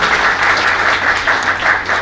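Steady, loud crowd applause fills a birthday celebration gathering, a dense continuous wash of many hands clapping together with no pauses.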